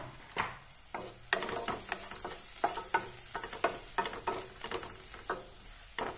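Spices sizzle and crackle in a pan, stirred with repeated scraping strokes that come in a quick, irregular rhythm, fairly quiet overall.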